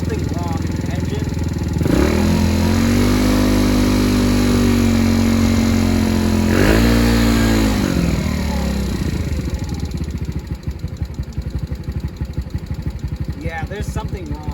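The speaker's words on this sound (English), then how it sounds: "Oh, it sounds bad though. There is something wrong in the engine." A faulty moped engine running rough and near, its loud uneven idle wavering and surging, then dropping into a choppy, stumbling putter as it starts to die.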